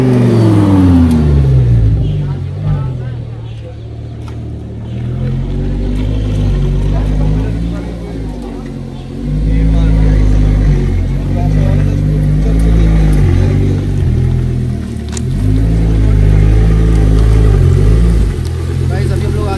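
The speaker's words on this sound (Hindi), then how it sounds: "एग्जॉस्ट भी बहुत लाउड है गाइस" A Lamborghini with a very loud exhaust roars as it accelerates, the deep engine note swelling and easing through several rev surges, close and powerful throughout.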